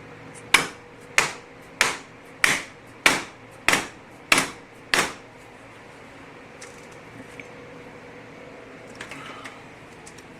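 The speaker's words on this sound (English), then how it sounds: "Get the old dead blow." A dead blow hammer strikes a length of 1.5-inch PVC pipe, driving a new seal into a 39mm fork on a 2001 Harley FXDX: eight sharp, evenly spaced thuds close up, followed by quiet handling noises.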